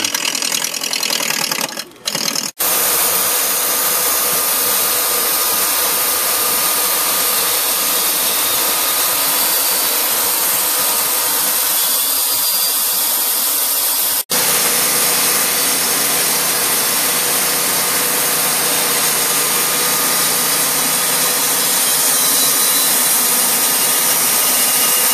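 Wood lathe spinning a workpiece during a turning demonstration at a woodworking store, a steady loud machine drone holding without pause after a brief start, with a momentary dip partway through.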